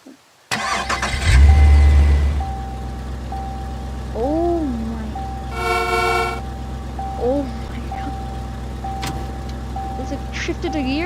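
A car engine in the video game Teardown cranks and fires into a steady idle, with a loud initial rumble, a few tonal beeps and horn-like toots over it, and someone talking in between.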